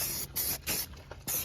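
Short bursts of an aerosol spray can hiss close by as engine bay parts get light coats of paint, three or four quick sprays with brief gaps between.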